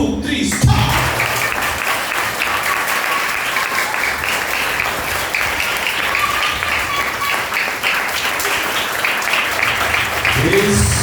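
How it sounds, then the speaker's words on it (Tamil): A group of children at a church vacation Bible school claps hands together in sustained, dense applause lasting throughout, steady and loud with a bright crackling texture and no pause. "1 2 3 சொன்னா கிளாப் பண்ண ஸ்டார்ட் பண்ணணும்."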